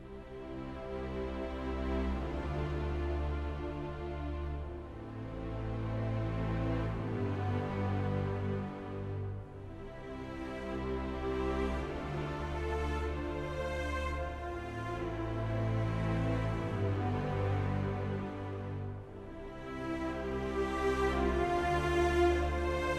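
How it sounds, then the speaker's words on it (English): A chord progression played on a keyboard-like instrument: sustained, ringing chords change slowly every few seconds, each swelling and fading, with no voices. "And then we have a chord progression that sounds like this."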